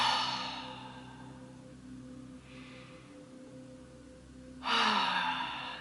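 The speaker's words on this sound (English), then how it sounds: "You can take 3 deep breaths. And make a sound as you exhale." Deep, audible exhalations during a guided meditation: a long breathy sigh fades out, then after a quiet pause another strong, close breath rushes out, with a faint steady hum underneath.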